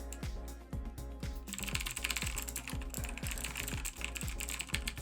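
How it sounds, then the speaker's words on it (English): Someone types on a VAVA mechanical keyboard with clicky Kailh Blue switches. Rapid, crisp keystrokes rattle along close up over a faint background hum, speeding up after a brief pause. "I'm pretty sure that this one is the VAVA keyboard, and this would be the Kailh Blues."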